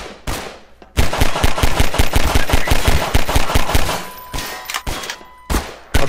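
Rapid bursts of enemy gunfire in Garry's Mod crackle in dense, loud volleys, with short gaps between strings of shots and a few sharp single cracks near the end.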